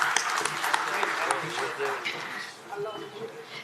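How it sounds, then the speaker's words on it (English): An audience claps in a steady burst of applause at a startup pitch competition, gradually thinning out, with a voice speaking over it. "Can we have a round of applause for Mr. Jayesh Ranjan ji for gracing this oc"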